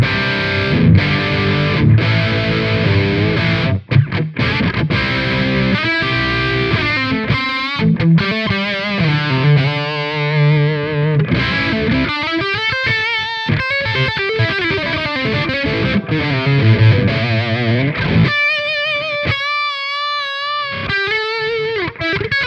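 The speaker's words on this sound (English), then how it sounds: "this sounds like this, and I'm playing my Vigier GV Wood with amber pickups." A Vigier GV Wood electric guitar with Amber pickups plays through a simulated Soldano SLO 100 amp, heavily distorted and beefy, mixing chugging riffs with sustained bent lead notes, brief gaps and no speech.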